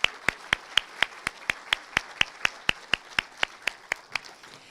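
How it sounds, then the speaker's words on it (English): A single pair of hands claps in a steady, even rhythm, about eighteen crisp claps close by with no other voices. "Please help me give them a round of applause."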